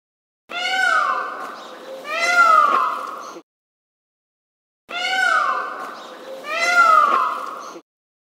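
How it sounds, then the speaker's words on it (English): Peacock call from a zoo sound app game, two loud, harmonic wailing cries repeated twice, each pair rising and falling with a brief gap between bursts, clear and close with no talking. "Peacock."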